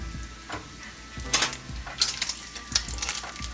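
Bacon fries in a pan over lowered heat for a shrimp and grits breakfast, giving a soft crackling sizzle with scattered pops and a few utensil clinks, close and without talk.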